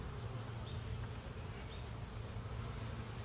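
Honey bees around a nuc hive during an inspection give a steady, dense insect hum that fills the whole stretch, close and continuous, with no talking over it.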